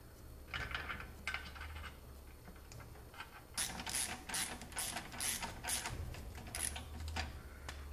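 A mechanic works a ratchet on fittings of an Audi S4, giving bursts of quick clicking ratchet strokes and metallic clatter up close, with pauses between sets of turns.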